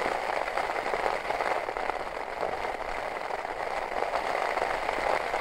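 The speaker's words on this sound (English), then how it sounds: "I love the sound of rain on a tent." Heavy rain hammers on a tent during a solo wild camp on an exposed hilltop, a dense, steady roar of drumming drops close overhead with no pauses and no voices.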